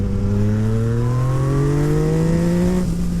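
A Yamaha MT-09 fitted with a full Akrapovic exhaust pulls hard on a ride, its engine note climbing steadily in a loud, continuous rising drone with strong harmonics, no talk over it.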